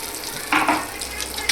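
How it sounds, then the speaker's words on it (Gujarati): Mustard seeds, cumin and asafoetida hitting hot oil, a steady close sizzle with a brief louder crackling burst partway through. "આટલી રાઈ નાખી દેવાની, 1 ચમચી જીરું નાખી દેવાનું અને 1 ચમચી જેટલી હિંગ નાખી દેવાની"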